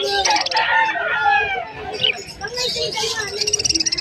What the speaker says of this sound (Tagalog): O meron dyan lacewing na frill back na hen.